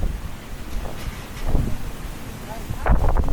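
Strong gusting wind on a mountain hike at Espadang Bato buffets the microphone, a continuous low rumbling roar with heavier bursts, loud and close throughout.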